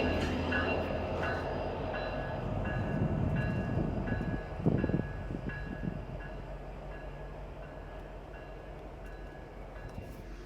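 A lone locomotive rumbles past steadily at moderate distance in Culpeper, Virginia, a low rolling drone with some clanking, fading gradually toward the end.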